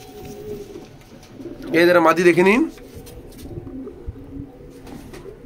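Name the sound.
Rampuri pigeons cooing in a loft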